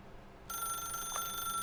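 A telephone in The Stanley Parable: Ultra Deluxe starts ringing abruptly after a half-second of quiet, a steady electronic bell tone held without a break.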